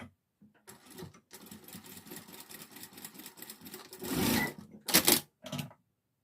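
A sewing machine stitches strips of colourful striped fabric for a Korean child's bonnet, running in quick bursts of rapid mechanical chatter separated by short pauses.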